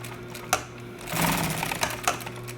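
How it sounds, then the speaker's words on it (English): A sewing machine stitching seatbelt webbing, with a close mechanical whirr of rapid needle strokes and a steady hum, some clicks before it starts, no talking. "Now I'm finna stitch it close. Stitch it down."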